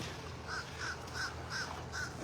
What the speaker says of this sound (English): I think maybe they might be called beach crows.